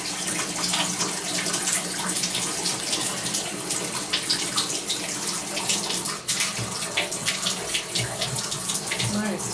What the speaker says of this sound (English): Now I leave the water on a little bit because I mix a little water in with the shampoo.